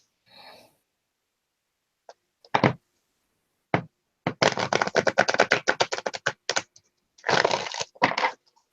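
Cards are shuffled during a live tarot-style reading, heard as close, crisp riffling bursts and sharp taps in irregular clusters, loud against near silence.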